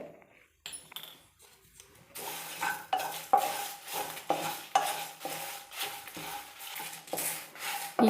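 Spices and poppy seeds roasting dry in a pan on a low flame, a steady rasp of stirring with repeated scraping strokes of a spoon against the metal, close and fairly loud after a quiet opening.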